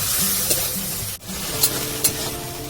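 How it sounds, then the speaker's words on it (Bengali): Ginger, garlic and dried red chilli paste sauté with a splash of water in a pan for green mango chicken curry. A close, steady sizzle is broken by a few short scraping stirs and one brief pause. "অল্প একটু জল দিয়ে কষিয়ে নিচ্ছি মশলাটাকে"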